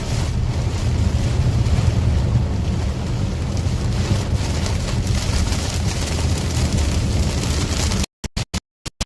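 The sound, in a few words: strong gusty winds during storm chase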